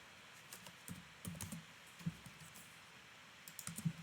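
Quiet keystrokes click on a computer keyboard in irregular bursts and single taps, close but soft, in an otherwise still room.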